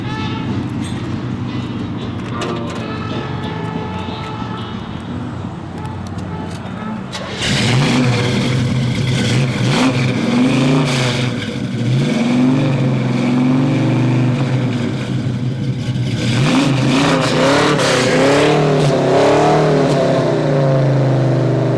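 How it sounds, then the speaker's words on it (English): A 1969 Camaro SS clone with a Flowmaster exhaust idles with a deep, loping rumble, then is revved hard in several rising and falling bursts, loud and close, with voices briefly under the engine. "with the Flowmaster exhaust we put on it, it definitely has a healthy sound to it"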